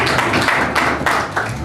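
Church congregation clapping to acclaim the Lord during a service, dense and continuous applause filling the room for a short burst with no voices standing out.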